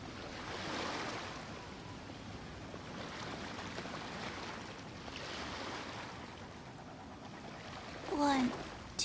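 Calm ocean waves in Genshin Impact, soft surges of surf swelling and receding in slow, steady cycles over a wind-like hiss, fairly distant and gentle, with a brief chime near the end.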